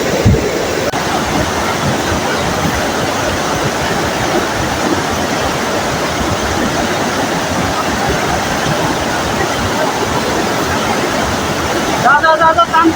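A swollen river rushes loudly and steadily, a dense unbroken roar of water close by, with brief other sounds near the end.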